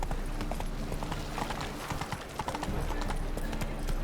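Roach, the horse in The Witcher 3 video game, gallops with brisk, continuous hoof clip-clops over a dense background of game ambience.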